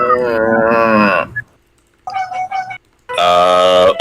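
Cow lowing in a MUGEN fighting game, two loud, drawn-out moos heard close with a brief grunting call between them.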